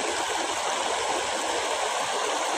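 Strong stream water flowing steadily and loudly, a dense continuous rush with no breaks, heard close and alone.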